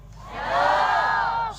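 Crowd at an evening Christian revival rally on an open field in East Sumba cheers and claps for an arriving regent, a loud sustained swell of voices and whoops close by.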